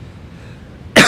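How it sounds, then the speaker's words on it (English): A single harsh cough bursts out near the end after a second of quiet room noise, close and loud. "you don't need to see me coughing and spluttering everywhere"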